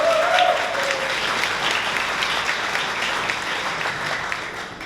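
A sold-out crowd at Big Grove in Iowa City applauds a live panel with a full, sustained round of clapping, a dense even roar with a brief cheer near the start.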